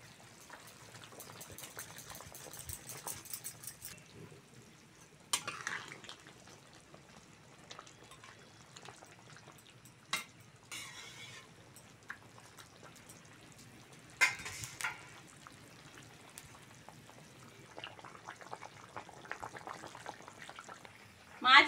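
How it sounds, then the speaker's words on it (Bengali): A thin Bengali fish curry broth of cumin paste, papaya, potato, green banana and fried mourala fish bubbles in a pan. There is a soft, steady boiling burble with scattered louder pops and clatters, and a voice talks over parts of it. "ঝোল ভালোভাবে ফুটে গেছে"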